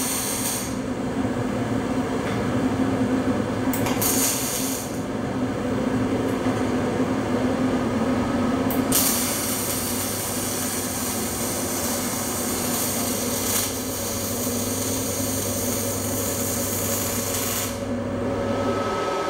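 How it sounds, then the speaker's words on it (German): Stick welding with a steady, crackling buzz of the arc that runs loud and continuous for the whole stretch, with a few brief breaks and a constant electrical hum underneath and no speech. "wir könnten beginnen mit Schweißen"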